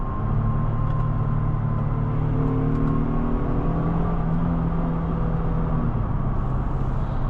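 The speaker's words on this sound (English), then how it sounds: "Could never get tired of a Honda V6." A Honda V6 in a 2026 Honda Passport TrailSport drones steadily from inside the cabin while driving, a continuous low engine hum with shifting tonal lines and road noise, no voices.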